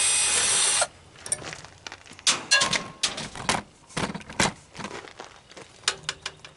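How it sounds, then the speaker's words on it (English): Screws being taken out of a dehumidifier being scrapped for copper and brass, with a loud power-tool whir at the start and then a run of irregular clicks, rattles and metallic clatters close by. "I'm taking all these screws out."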